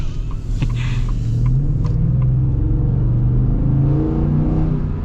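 A 2025 Ford F-150 regular cab pickup with a 5.0L V8 revs steadily, a loud, deep engine rumble that climbs and holds through the whole stretch, with a few light clicks early on.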